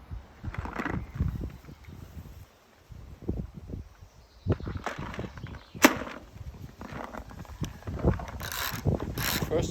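A G3D gel blaster's spring is wound up by hand with a series of irregular mechanical clicks and ratcheting rasps, close and fairly quiet, with faint voices in the background.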